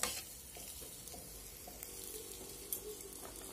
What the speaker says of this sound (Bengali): আলুগুলো দিয়ে দেব, আবার ভালোভাবে নাড়িয়ে নেব।